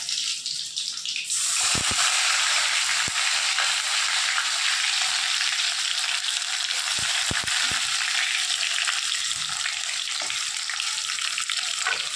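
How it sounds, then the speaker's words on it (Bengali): Meat and raw potatoes sautéing in a pan, a loud continuous hiss of frying that swells just after the start and holds steady, with occasional scraping and stirring knocks. "এবার শুধু মাংসটাকে ভালো করে কষানোর পালা"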